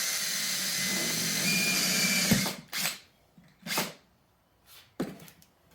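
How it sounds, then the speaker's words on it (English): A power drill runs steadily for a couple of seconds, boring into a metal shaft of a string trimmer, then stops, followed by several short bursts of drilling with pauses between. "Just going to drill a hole about the same size that was already there."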